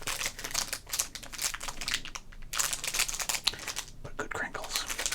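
Baseball card packaging crinkles and rustles close to the microphone in continuous soft crackles, with quiet whispered speech mixed in.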